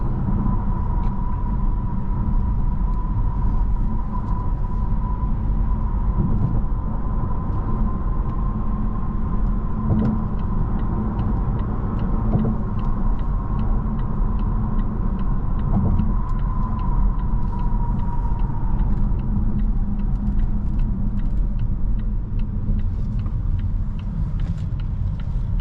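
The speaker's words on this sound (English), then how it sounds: "Yeah, nice acceleration." A 2025 Volvo S90 B6 AWD Ultra accelerating, heard from inside the cabin as a steady low rumble of engine and road noise with a faint rising tone, smooth and continuous throughout.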